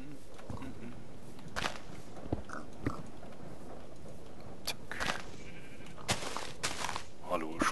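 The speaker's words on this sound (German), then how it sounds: "ein paar Schafe." Sheep bleating in Minecraft (TerraFirmaCraft mod): several short bleats scattered over a steady game ambience, with someone talking over them.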